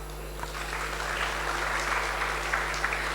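An audience at a school event applauds a guest speaker with a continuous wash of clapping over a low electrical hum, steady throughout with no voices.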